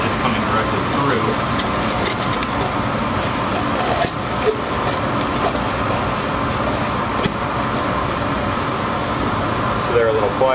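A workshop dust collector pushes a steady, broadband rush of air through its return baffle, a constant close whoosh with no clear change in level across the clip.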